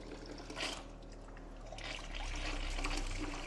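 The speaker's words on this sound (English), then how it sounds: "now we're bleeding out some water" Water trickles and splashes steadily from a pressure washer line being bled, swelling a little louder toward the end, with a low hum underneath and no talking.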